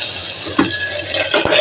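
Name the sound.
chopped onion frying in oil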